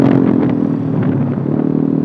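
A motorcycle fitted with an Eternal exhaust idles and revs loudly up close on a badly damaged road, a continuous throaty burble with small surges in engine speed.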